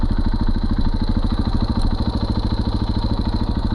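A motorcycle fitted with a Rekluse auto clutch climbs against rocks and bricks, its engine close and loud with a fast, even thumping chug throughout the short stretch, alone with no talk.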